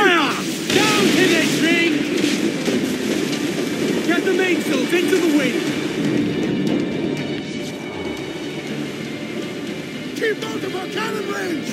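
Ship cannons boom in a naval battle in Assassin's Creed IV Black Flag, with a man-o'-war taking fire amid dense, loud rumbling, crashing and continuous noise while voices shout over the din.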